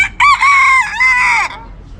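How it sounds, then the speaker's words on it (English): Young Belgian bearded bantam rooster crows once, close and loud, a bright two-part call lasting about a second and a half against quiet background. "He's a male, a cockerel, a young rooster."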